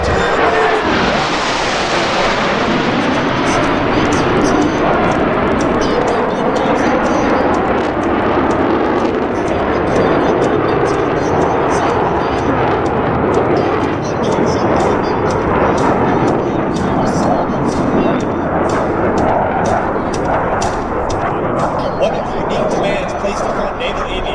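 US Navy Blue Angels jets at the Rhode Island airshow at Quonset, a loud continuous jet roar that swells sharply in a close pass near the start, then rumbles on with crackling bursts while a voice talks over it.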